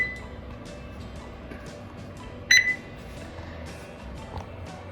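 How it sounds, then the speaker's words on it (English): A digital thermometer's high-temperature alarm beeps once over a steady low background hum while smoking brisket on a backyard offset smoker, with faint clicks scattered around it. "we're getting a high temperature alarm on our ThermalWorks thermometer"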